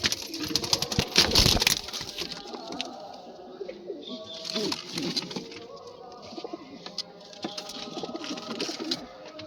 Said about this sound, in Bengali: এই পায়রাটা ম্যাড্রাস পায়রা হতে পারে